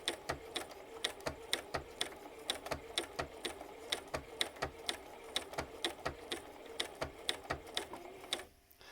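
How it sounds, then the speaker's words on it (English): Bernina 1630 sewing machine stitching a wide honeycomb stitch, a quiet, even run of rhythmic mechanical ticks and clacks repeating about three times per second, close and alone before stopping. "it's going to sew fairly wide"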